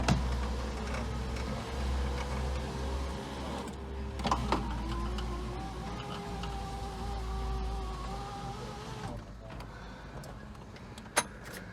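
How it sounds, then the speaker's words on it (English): A Buick LeSabre power window runs smoothly on a newly installed window regulator, its steady electric motor whine lasting several seconds, close and alone, ending with a light click. "Window regulator finally working."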